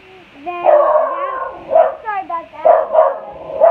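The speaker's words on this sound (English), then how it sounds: "That's just our dog." A pet dog yips, whimpers and barks in short, rising and falling bursts at close range, with a person speaking briefly over it.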